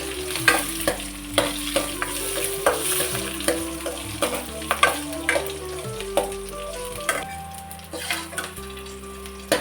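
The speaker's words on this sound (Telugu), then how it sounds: "నూనె వేడెక్కిందండి. ఇదిగోండి స్పూన్లు జీలకర్ర వేస్తున్నాను" Cumin seeds sizzling in hot oil for a tomato and green chilli pachadi, a steady close frying hiss broken by frequent clicks and spoon scrapes, with a faint tonal hum underneath and nobody speaking.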